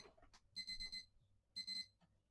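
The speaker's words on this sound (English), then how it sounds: "I have an alarm." An alarm beeping in two clipped bursts of rapid electronic pulses, each about half a second long, separated by a pause, fairly faint in a quiet room.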